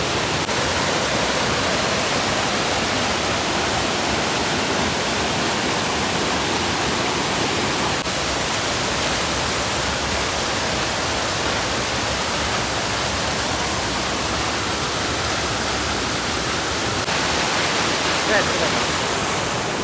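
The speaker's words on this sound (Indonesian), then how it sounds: "Air terjun Benowo." Benowo waterfall at the foot of Mount Ungaran in Java roars as a loud, steady broadband rush of falling water that fills the whole stretch without a break.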